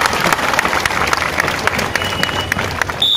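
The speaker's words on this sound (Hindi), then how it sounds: "तालियां बजाना है तो ऐसे बजाओ कि गॉड शो में जान आ जाए" Audience applause at a dog show, dense steady clapping from a crowd filling the whole stretch, fairly loud and close, with a faint voice murmuring underneath.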